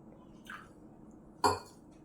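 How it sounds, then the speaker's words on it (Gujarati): Water is added to red chili powder to loosen a spicy pizza chutney, giving one faint soft drip and then a single brief, closer splash in an otherwise quiet kitchen. "તેમાં પાણી નાખીને ઢીલી કરી લેશું"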